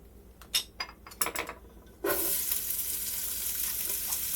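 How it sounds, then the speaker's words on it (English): A few clinks and taps of utensils come first. Then chopped onions (one medium onion) drop into warm oil and set off a sudden loud sizzle that holds steady and close. "I've got the oil warming up here. I am going to add in some chopped onions."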